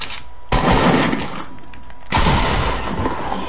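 Two heavy gunshot-like blasts at close range ring out in a Black Ops 4 video game, each followed by a long rumbling decay, with no talk in between.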